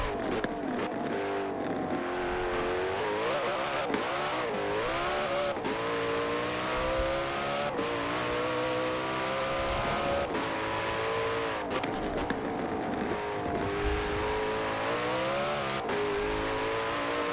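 A Koenigsegg Jesko in the video game Forza Horizon 4, its engine droning loudly and continuously as revs rise and fall through gear changes, with brief dips between shifts.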